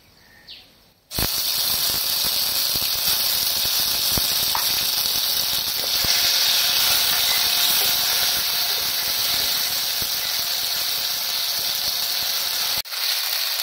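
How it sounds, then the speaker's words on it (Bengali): Ginger paste and a torn bay leaf frying in a pan make a steady, loud sizzle that begins sharply after about a second, holds nearly unchanged, then cuts off just before the end. "এবার এতে আমি দিয়ে দিচ্ছি আদা বাটা। আদা বাটাটা দিয়ে দিচ্ছি আমি 1 চামচ।"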